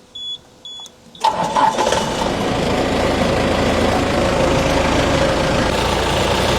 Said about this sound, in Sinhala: දැන් අපි එන්ජින් එක ස්ටාර්ට් කරගන්නවා